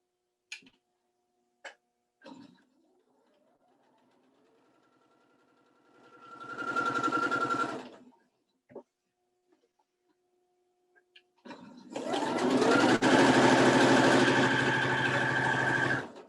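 A sewing machine stitches quilt fabric pieces laid right sides together in two bursts, one short and one longer and louder, with scattered clicks and handling ticks in the quiet gaps.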